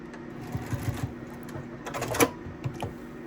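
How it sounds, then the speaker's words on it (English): A sewing machine backstitches through a quilt in short uneven bursts of rapid mechanical ticking, with a sharper clack near the end, fairly quiet and close. "Here I'm going to backstitch"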